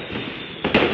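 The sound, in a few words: firecrackers on last day of Chinese New Year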